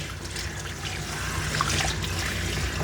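Water trickling and splashing steadily while a dog's coat is wetted down during a home grooming session, a continuous close running-water sound with no talk.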